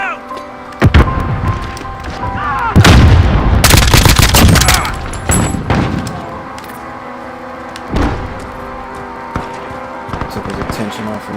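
Explosions and bursts of gunfire in the Modern Warfare video game, with loud blasts around 1 and 3–5 seconds and scattered shots afterward, mixed with game voice callouts.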